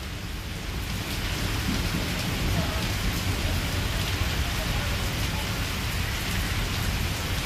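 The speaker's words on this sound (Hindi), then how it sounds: "और क्या ज़बरदस्त बारिश हो रही है इस वक्त इस्लामाबाद में, रावलपिंडी में" Torrential monsoon rain pours down in Islamabad, a dense, steady roar of drops hitting surfaces that stays loud and unbroken throughout.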